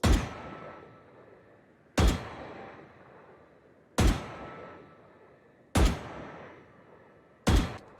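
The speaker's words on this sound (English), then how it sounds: "I'm going to shoot this target a few times" Vandal rifle in Valorant fired at a practice target: five single loud shots spaced about two seconds apart, each a sharp crack followed by a short decaying tail, with nothing else in between.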